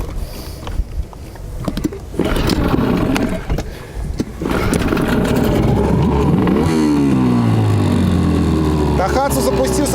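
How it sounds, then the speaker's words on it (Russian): A Hidea 9.8 Chinese outboard boat motor cranks and catches, then runs with a steady loud drone and rising revs, while someone talks over it. "Хайде запускался достаточно долго."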